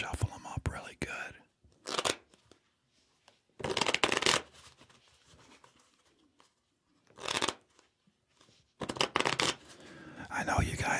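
Playing cards are shuffled in several brisk riffling bursts, close and crisp, separated by quiet pauses with faint whispering.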